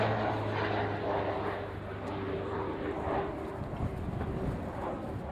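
A Tutor aircraft flies an air display at the Royal International Air Tattoo, its engine droning faintly and steadily in the distance over outdoor background noise.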